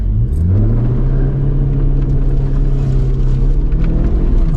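A PT Cruiser race car drives on track, its engine droning loud and steady throughout with a rising rumbling pitch as it pulls, close and continuous with no talk over it.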